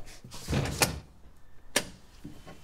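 An apartment door is handled and opened: a rattling latch and handle clatter followed by a sharp knock-like thud and a softer bump, close and fairly loud with no talk.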